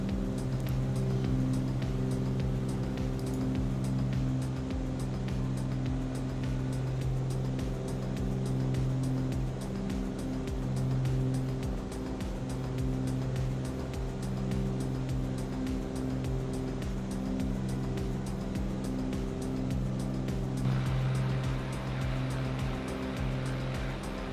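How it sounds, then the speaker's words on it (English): Aircraft engines in Microsoft Flight Simulator 2020, a steady loud droning hum with layered tonal pulses and throbbing beats, continuous and close throughout, without talking. "Let me know if those engine sounds are a little loud, everyone."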